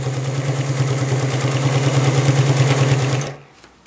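A 1951 Pfaff 130 sewing machine runs a steady straight stitch through four layers of fabric at 5 mm stitch length, a fast, even mechanical whir with a rhythmic pulse, loud and close, stopping abruptly near the end.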